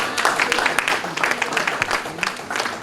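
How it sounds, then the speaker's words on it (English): Conference audience at an aviation careers event claps steadily, a moderate crowd of hands with distinct individual claps standing out through the wash. "A round of applause for her, please."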